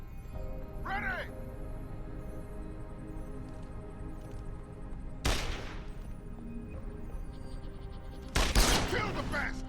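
Gunfire in Deus Ex: Human Revolution, mostly a quiet ambient backdrop broken by two sharp bursts of shots, the second louder and longer, with a brief cawing call early on.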